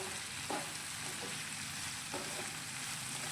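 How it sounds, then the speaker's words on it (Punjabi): Shahi paneer gravy sizzles in a pan while a spoon stirs through it after salt goes in, a steady quiet frying hiss broken by a few soft scraping strokes. "ਲੂਣ ਪਾਉਣ ਤੋਂ ਬਾਅਦ ਇਹਨੂੰ ਇੱਕ ਵਾਰ ਮਿਕਸ ਕਰ ਲੈਂਦੇ ਹਾਂ"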